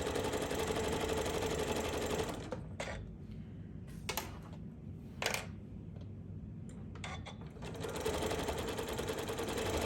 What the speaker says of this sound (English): I am just going to chain stitch these for right now